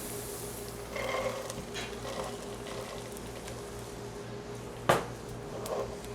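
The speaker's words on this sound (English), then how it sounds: "So get this stuff really nice and sizzling." A steady, soft sizzle of shell beans frying in oil in a pan, with a few clinks and one sharp knock of a utensil partway through.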